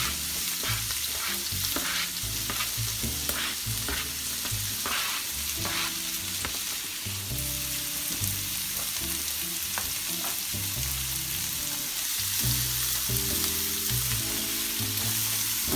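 Onions frying in a pan for homemade spaghetti sauce, a continuous close hiss and crackle running steadily under soft background music.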